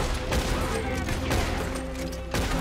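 Rapid gunfire from a Red Dead Redemption 2 shootout, dense overlapping shots and bursts filling the whole stretch with a loud, continuous crackle and boom.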